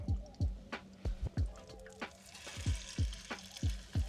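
Chicken curry ingredients going into a pan outdoors at a truck tailgate, with low thumps and a soft sizzle recurring in an uneven rhythm, close by and without talk.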